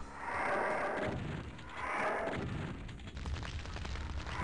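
Chaingunner in Doom II: Hell Revealed firing at the player, heavy booming bursts of gunfire arriving in two loud swells followed by rattling shots amid the game's din.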